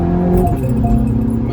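A Mini hatchback engine idles with a loud, steady, close low rumble and a slight rise in revs partway through.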